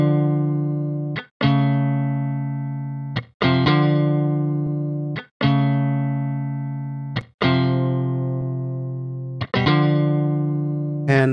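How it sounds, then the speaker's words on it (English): A dry electric guitar with the analog delay bypassed plays sustained, distorted chords, each ringing out and decaying before the next strum, about six strums in a slow, even rhythm with no echo tails. "Let's bypass again our delay and listen to the dry guitar."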